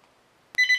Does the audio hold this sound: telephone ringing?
yes